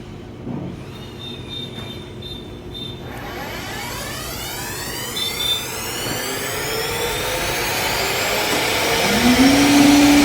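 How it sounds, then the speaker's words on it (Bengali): A CNC machine starts up to cut a door design, its motor whine rising and sweeping upward in pitch as it spins up, then settling into a loud steady roar with no talk. "কাকা আমাদের মেশিন চালু করছে"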